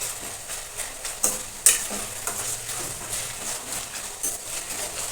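Homemade carrot oil heating in a pan gives off a steady soft sizzle and bubbling, with a few sharper pops and crackles standing out, close by and without talk.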